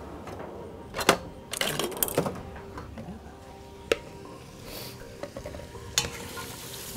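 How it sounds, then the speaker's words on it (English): Onions sprinkled with a teaspoon of sugar are stirred in a pot for French onion soup: bursts of scraping and clacking utensil strokes over a faint sizzle, close and fairly quiet, then sparse taps. "Give it a quick stir."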